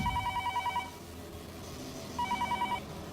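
A telephone rings in two trilling bursts, a pulsing electronic bell, with a short quiet gap between rings over low background noise.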